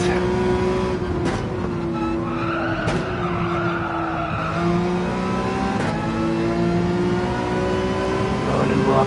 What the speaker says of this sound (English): We can hear that I'm really pushing the tires